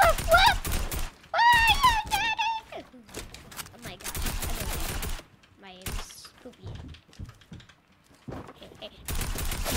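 Rapid bursts of tactical assault rifle fire in a first-person shooter game crackle in short volleys, mixed with game effects and vocal exclamations from players.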